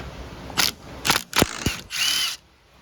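A ratchet loosening the 15mm brake caliper bolts on a Polaris Ranger 1000 during brake removal, making a few short, close, clicking bursts and then one longer run of rapid clicks.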